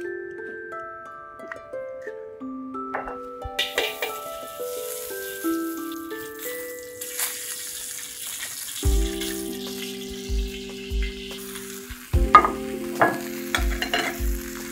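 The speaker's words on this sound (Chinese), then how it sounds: "我们先给它爆炒一下。" Soybean sprouts stir-fried in lard in a smoking-hot wok over high heat: a steady sizzle with repeated scraping stir strokes, loud and close, with no talk.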